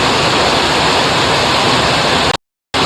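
A torrential downpour roars as a dense, even hiss, loud and close, broken by a brief dropout of silence near the end.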